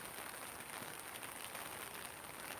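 Rain falls steadily beside a small, full forest stream, forming a dense, even hiss that stays constant and close throughout, with no voices.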